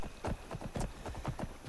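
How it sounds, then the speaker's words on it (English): Horse hooves clip-clopping in Skyrim, a steady rhythmic series of soft hoofbeats at a trotting pace, fairly quiet and close, with no talk over them. "Now we have this horse."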